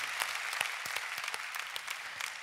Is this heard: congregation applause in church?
yes